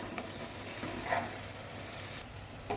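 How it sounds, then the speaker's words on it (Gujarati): Spiced tomato gravy being stirred in a pan for a Gujarati dana muthiya shaak, a soft steady sizzle with a brief scraping swirl midway, close and continuous. "હવે આને બરાબર પ્રોપર મિક્સ કરી લઈશું."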